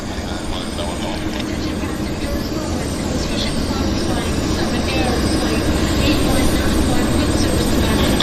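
A Q400 turboprop airliner at the far end of an airport runway, its steady, broad engine roar filling the air continuously, with a voice talking over it.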